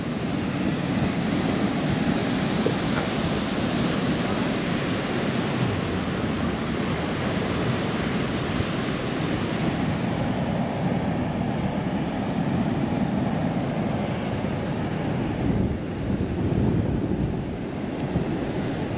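Sea waves on the Moroccan west coast make a continuous broad roar of surf, steady and loud for the whole stretch, with no voices.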